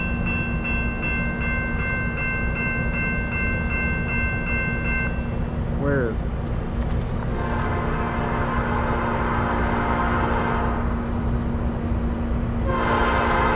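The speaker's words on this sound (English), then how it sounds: "I think it's the Autorack train." A Norfolk Southern autorack freight train led by two AC44C6M locomotives blares its horn in long sustained chords, then rumbles and clatters steadily past, with a brief voice in the middle.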